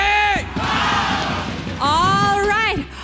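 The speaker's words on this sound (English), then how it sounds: "kita dah nampak fans are cheering for their favorite teams" A crowd of esports fans cheers loudly for their teams at a Malaysian MPL playoff match, with two long surging bursts of yelling and whooping separated by a short dip.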